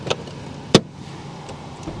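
Hood release of a 2015 Maserati Ghibli being pulled, a sharp mechanical clunk standing out among faint clicks, close and fairly loud over a quiet background.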